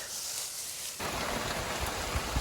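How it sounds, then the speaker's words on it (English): Rain sweeps across mountains beside a straw-mulched potato garden, a steady broad hiss that swells suddenly into a denser, louder wash of drops partway through, with no voices. "You can hear the rain coming across the mountains sometimes."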